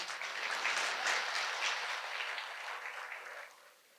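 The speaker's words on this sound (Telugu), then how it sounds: "చప్పట్లు చెప్పండి అయ్యా." An audience claps together at a health talk by a doctor, a dense, sustained round of applause that fades out toward the end.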